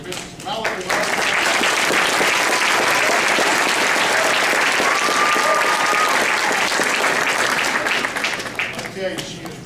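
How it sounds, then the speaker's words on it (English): A community theater audience applauds the show's pianist with full, sustained clapping that holds loud and even for nearly ten seconds, a few voices faintly mixed in, then tapers off. "So can we give a round of applause for Mrs. Malachi?"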